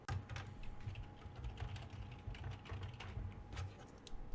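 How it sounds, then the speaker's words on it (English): Rapid clicking of fingers hammering on a computer keyboard (not a mechanical one) picked up by a Blue Yeti microphone, a quiet, dense stream of keystrokes with no talking. "if I'm hammering away on my keyboard"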